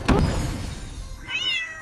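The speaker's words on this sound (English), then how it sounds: "It's a cat." A cat meows once or twice, fairly close and clear, with a short thump at the start and no talking over it.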